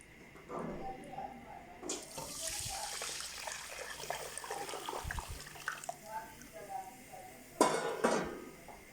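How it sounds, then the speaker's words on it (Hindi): Sugar syrup poured into golden roasted flour for Chakwal-style halwa, a hissing, sizzling rush with liquid splashing in the pan and a few metallic clinks, heard close with a faint voice in the background. "इसमें अब इसकी चाशनी डालते हैं।"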